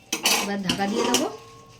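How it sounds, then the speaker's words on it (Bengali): A metal lid goes onto a cooking pot of chicken and potatoes with water, giving a couple of sharp clanks and a short ringing metallic scrape, close and loud, then a fading resonant hum. "এবার ঢাকা দিয়ে দেবো।"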